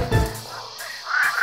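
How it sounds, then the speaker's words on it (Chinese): Frogs croaking in a forest scene of an animated children's song, a brief burst of a few close, throaty croaks over a soft musical background. "听，青蛙在唱歌呢。"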